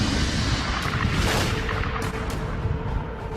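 A deep, continuous roaring rumble plays as a supernova explosion effect, loud and sustained throughout, with faint bursts swelling near the start.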